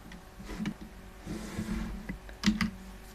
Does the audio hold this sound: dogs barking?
no